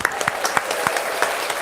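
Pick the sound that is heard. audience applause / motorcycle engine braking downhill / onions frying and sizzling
audience applause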